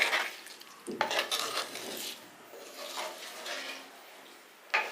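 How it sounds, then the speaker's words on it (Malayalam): Grapes are mixed in a bowl, giving soft, faint stirring and scraping with a few light clinks of a utensil against the dish, close by and unaccompanied by speech. "നമുക്ക് ഇതൊന്ന് മിക്സ് ചെയ്ത് കൊടുക്കാം"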